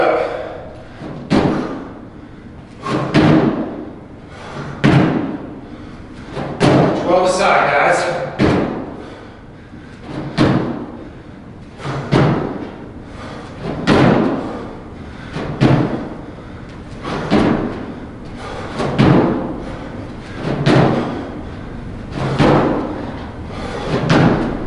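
Repeated heavy foot thuds on stairs during explosive step-up exercises in a home workout, landing at a steady rhythm of roughly one to two seconds, loud and close with a brief scuff or rustle in between.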